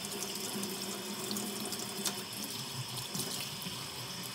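Running tap water pours steadily to soak knife sharpening stones, a constant, even hiss and splash with no pauses, fairly quiet and heard alone.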